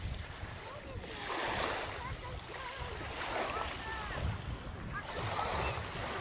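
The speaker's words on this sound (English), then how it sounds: "I hope you're all enjoying these waves." Ocean waves wash and roll steadily against a windy, gusty background, with repeated surges of surf close to the microphone and no clear talk.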